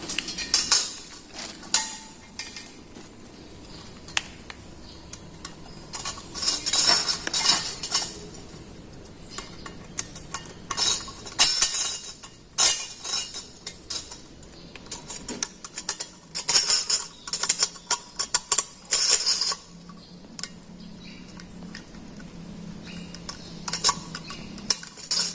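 Plastic waste-water pipe trap fittings are tightened by hand, producing irregular bursts of close hard plastic clicks, scrapes and knocks separated by short pauses, with no voices.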